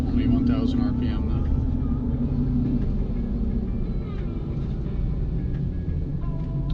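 A 2017+ Ford Super Duty idling at about 1,000 RPM, a low, steady exhaust rumble heard from inside the closed cab, with someone talking over it throughout.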